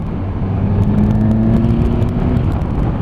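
A Suzuki GSX-S1000GT motorcycle pulls in top gear from low revs in its responsive riding mode at about 40 mph, giving a steady, loud engine drone with rising harmonics, close up and continuous, with no talking.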